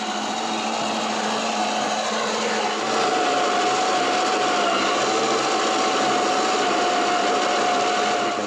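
A battery powered cordless reel mower, pushed by hand, whirs steadily as it cuts grass, a loud continuous motor drone with blade chatter that grows slightly stronger partway through, with no speech.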